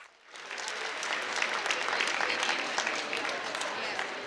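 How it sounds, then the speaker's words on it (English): Sustained applause from a crowd at an awards presentation, steady and dense clapping for several seconds after a brief quiet start. "A big round of applause to Kevin Speed, 25 years service."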